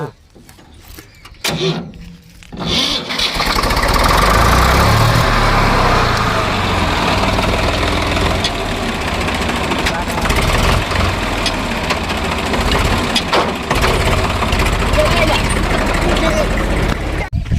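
A tractor's diesel engine starts and settles into a loud, steady rumbling idle that runs throughout, with people talking over it.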